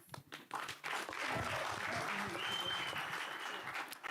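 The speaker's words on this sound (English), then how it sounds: "A round of applause." Audience applause fills a startup pitch session at the AfricArena Nairobi Summit 2026, a dense, steady wash of clapping that builds after a brief quiet start, with faint voices underneath.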